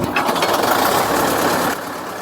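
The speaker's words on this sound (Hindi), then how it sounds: "ट्रैक्टर एक ही हैंडल में स्टार्ट हो गया" A tractor that had sat unused for days starts with a single pull of the hand crank, its engine catching into a loud, steady chugging hum that continues close by without talk.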